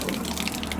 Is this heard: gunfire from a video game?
no